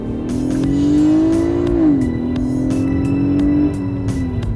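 A used Infiniti G37 with a V6 and about 130,000 km on it revs smoothly under acceleration, loud and close, with a steady engine note that climbs, dips at a gear change, then pulls evenly again.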